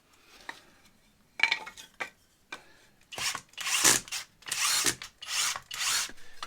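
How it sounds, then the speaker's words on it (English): A power drill bores through pieces of wood in a series of bursts, starting with short taps and building into several longer, louder runs, close by with no talking. "Now you might be wondering why I'm drilling through the pieces of wood"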